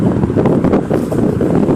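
Strong wind buffets the microphone in a constant low roar with gusty surges, no voices heard.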